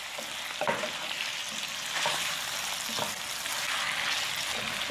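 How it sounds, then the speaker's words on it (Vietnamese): Tomatoes and bamboo shoots stir-fry in hot oil in a pan with a steady close sizzle, broken by a few scraping strokes of the spatula about a second apart, with no talking. "Cà chua anh chị xào cho vừa chín tới là được."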